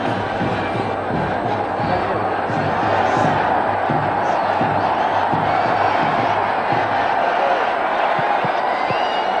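Packed cricket stadium crowd at Motera, Ahmedabad, during an India vs West Indies one-day international, a steady roar of cheering and chanting with rhythmic beats, loud and continuous throughout.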